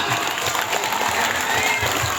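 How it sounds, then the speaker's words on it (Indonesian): Crowd at a school Lunar New Year celebration clapping and cheering for the school, a brief loud burst of dense applause. "Tepuk tangan untuk Sekolah Dharma Bangsa."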